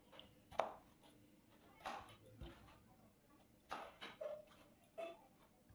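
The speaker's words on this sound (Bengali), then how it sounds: "একটু ডুমো ডুমো করে পিস করতে হবে।" A knife cuts peeled potatoes into small cubes, giving several quiet, irregular chops and knocks on a board, faint and close, with soft background noise.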